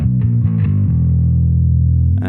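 Bass guitar through a Neural DSP Quad Cortex with a touch of distortion, a few quick plucked notes and then a long sustained low note ringing out alone before a final pluck.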